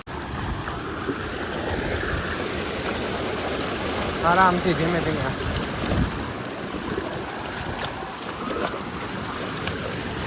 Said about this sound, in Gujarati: ઉપરથી ધોધમાંથી જ આવે છે આ બધું પાણી